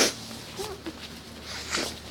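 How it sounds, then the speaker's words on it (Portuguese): A person sneezes in bright sunlight, a sharp burst at the start followed by a softer snort-like breath and another sneeze-like exhale near the end, close and moderately loud. "O sol tá me fazendo espirrar."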